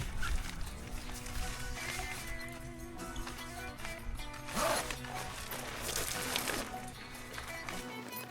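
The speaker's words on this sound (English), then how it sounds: "And we'll zip this up." Zipper pulled closed along the fabric wall of a TopOak 270 awning room mounted on a Jeep Gladiator outdoors, a steady rasping run heard among rustling fabric and background noise.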